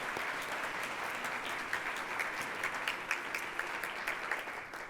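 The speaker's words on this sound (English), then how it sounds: "Let's have another hand of applause for them." Audience at a public forum applauding the speakers: sustained, fairly quiet clapping from a crowd, an even wash of many hands with a few sharper claps standing out, heard alone.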